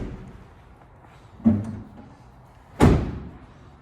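A Ford Transit van door being shut during a spare tire rack bracket installation, heard as two solid thuds: a lighter push near 1.5 s, then a firm full close near 2.8 s, both close by with quiet between.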